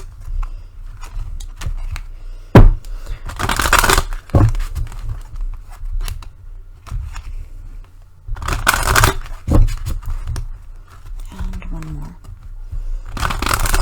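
Repeated bursts of tarot card shuffling, several riffles spaced a few seconds apart, close and fairly loud, with a little talk in between.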